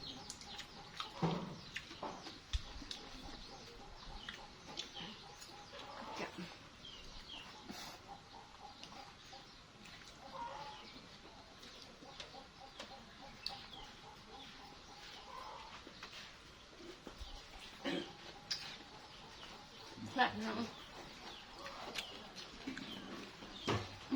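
Chickens cluck faintly around a rural Thai household in the early morning, with scattered soft calls and a steady low background hum throughout.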